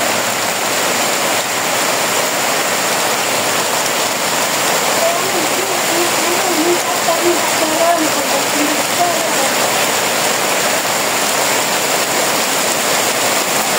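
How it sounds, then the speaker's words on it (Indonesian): Heavy rain pouring steadily and loudly, a dense continuous wash of water noise that holds throughout with no clear gaps. "Hujannya tambah deras tuh."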